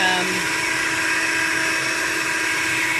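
An electric whisk whirs steadily and continuously while whipping cocoa butter and shea butter into a cream, a close, even motor drone with faint talking underneath.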